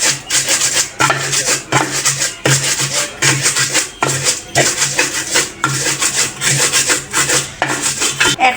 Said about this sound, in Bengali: এখন হচ্ছে মরিচগুলো আগে বেটে নেব